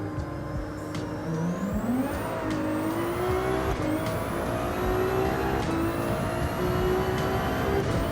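A GT3 race car on medium tyres pulls away from the line in the video game Gran Turismo 7. The engine note climbs loudly and steadily through several rising gear pulls, each broken by a brief drop at the shift.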